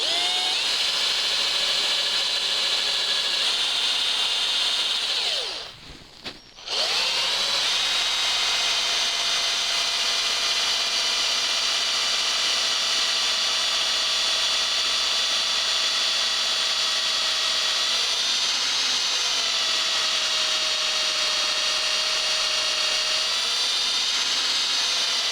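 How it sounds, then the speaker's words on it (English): Power drill boring through a solid-body electric guitar blank toward the pickup cavity, a steady loud whine with shifting harmonics that runs almost continuously, broken by one brief pause near the start before resuming. "I'm going to drill through to about where that pickup cavity is going to go."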